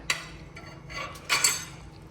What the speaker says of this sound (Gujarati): મારું વાસણ ઘસાય છે.